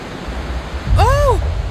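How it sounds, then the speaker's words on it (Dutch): Cartoon storm at sea: a steady low roar of churning waves and wind swells louder near the end, with a brief rising-and-falling howl sweeping over it. "Plotseling kwamen er zwarte wolken samen in de lucht. De hele zee begon te brullen en te bewegen."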